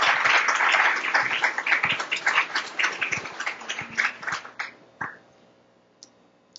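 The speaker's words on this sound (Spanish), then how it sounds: "Un aplauso." Audience applause after a radiology visual literacy session, a brisk burst of clapping from a modest crowd that thins out into a few scattered claps before fading to quiet.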